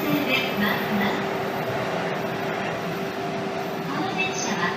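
Hayate 105 bullet train bound for Morioka pulling into platform 21, a steady rumbling rail noise with a faint sustained tone, heard from the platform amid station ambience and a voice.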